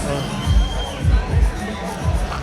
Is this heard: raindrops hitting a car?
no